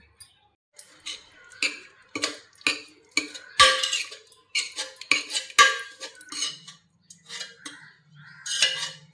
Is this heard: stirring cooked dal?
yes